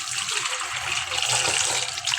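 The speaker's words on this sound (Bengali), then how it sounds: "বেসিনের কাছে চলে এসেছে, বেসিন থেকে আমি ধুইতে আসি।" Tap water runs steadily into a sink basin as custard apples are rinsed under it, a close, continuous splashing hiss that swells slightly midway.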